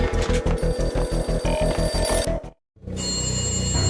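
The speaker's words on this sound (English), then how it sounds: "A beaten-up phone in the entrance hall was ringing." An old telephone bell rings in rapid repeated bursts in the video game Max Payne, cuts off abruptly, then a low hum and ambient noise follow.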